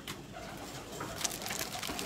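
Pigeons coo softly in a cage nearby in a short, low burble, with light rustling and a faint flutter in the background.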